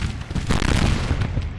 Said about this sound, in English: So that's his artillery.